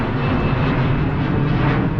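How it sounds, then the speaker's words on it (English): An Alaska Airlines jet airliner passes overhead near Bay Farm Island in Alameda, a steady broad engine roar that holds at an even loudness throughout, with no voices over it. "That's an Alaska Airlines jet."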